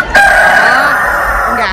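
A fighting rooster at a fair gives a single loud, close crow that rises and holds for over a second before trailing off.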